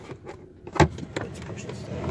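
A Hyundai Accent's faulty cabin blower motor runs behind the glove box, a steady whirring hum inside the car, punctuated by a sharp knock and some low background talk.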